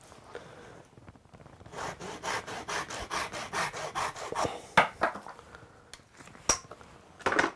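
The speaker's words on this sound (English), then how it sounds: "So now I'm going to cut the end off with a Japanese saw" Japanese pull saw cutting the end off a handmade wooden chopstick, a steady run of about a dozen rhythmic rasping strokes up close, followed by a few sharp knocks and scrapes as the piece is handled.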